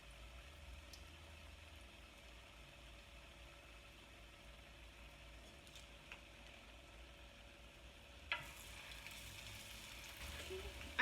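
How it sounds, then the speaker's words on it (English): Taquitos fry in a pan of oil with a faint, steady sizzle set low against a soft background hum, and a few small clicks and bumps come toward the end. "you're going to fry these for about 3 to 4 minutes"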